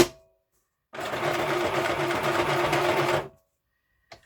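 A mini sewing machine stitching: a steady, fast mechanical whir with a rapid needle rhythm, running alone for about two and a half seconds, then stopping, followed by a small click.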